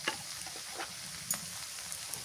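Chili paste sizzling as it hits hot oil in a pot on a clay stove, a soft continuous fry with a few faint stirring scrapes, heard close and alone.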